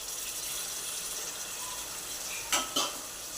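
Yellow eel fish and broad beans are stirred together in a cooking pot, giving a low, quiet simmering hiss with two brief scraping clatters of the spoon near the end, and no voices.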